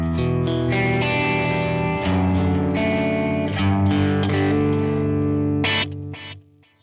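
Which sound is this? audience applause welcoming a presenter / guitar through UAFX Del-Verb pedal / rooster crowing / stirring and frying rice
guitar through UAFX Del-Verb pedal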